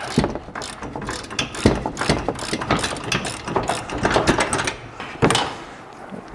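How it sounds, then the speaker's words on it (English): A wrench works a 24 mm suspension bolt during a coilover and control arm install on a 2025 Ford. Dense metallic ratcheting clicks run in quick bursts with clanks in between, close up and with no talk. "So we're gonna put this 24 back on there, hold this side with the wrench."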